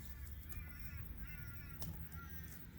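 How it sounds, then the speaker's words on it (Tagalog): Several crows caw at a distance in rural Australian countryside, a few harsh calls spaced irregularly over a low background rumble, faint and with no talking. "May uwak pa. Uwak, uwak."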